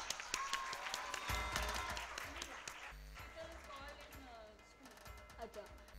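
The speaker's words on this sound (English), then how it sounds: "A loud round of applause for her." Audience applause for a schoolgirl being honored at a school event, with a broad crowd clapping under mixed hall sound and a voice speaking over it.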